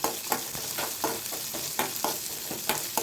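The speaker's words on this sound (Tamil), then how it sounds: "நல்லா வதக்கி விட்டுக்கலாம்." Onions sautéing in oil with mustard seeds, urad dal and chana dal in a pan for poha upma, a steady close sizzle with rhythmic scraping strokes of a stirring spoon and no talk.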